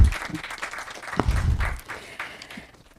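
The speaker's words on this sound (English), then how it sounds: "Big round of applause for NITK." Brief applause at an international conference's valedictory session, a short patter of hand claps from the audience that swells briefly and then tapers off within a few seconds.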